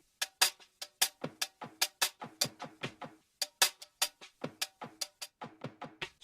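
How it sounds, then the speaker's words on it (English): A second percussion loop in a beat sounds like a hi-hat, with quick, crisp metallic ticks in a steady, busy rhythm and some accented hits, playing alone. "This second percussion is similar to the hi-hat."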